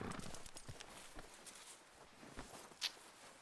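Soft clip-clop of a Tennessee Walker horse moving through snow in the video game Red Dead Redemption 2, irregular hoof thuds with light shuffling and a brief bright jingle, fairly faint and distant.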